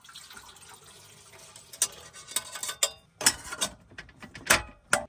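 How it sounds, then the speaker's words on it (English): Water poured into a pot at a cold winter car campsite, a run of splashing, clinking bursts growing busier toward the end, close and fairly loud with no talk. "Pour the correct amount of water in there."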